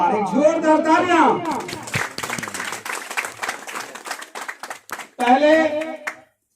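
A crowd claps at a franchise opening ceremony for IMC in a short, lively burst, with a voice speaking before and after the clapping.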